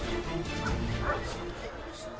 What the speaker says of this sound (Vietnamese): Con chó đã không ngần ngại và đuổi theo nam thanh niên